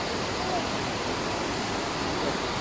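Steady, broadband rushing of Savica waterfall in Slovenia, source of the Sava Bohinjka river, a constant dense roar of falling water with no pauses.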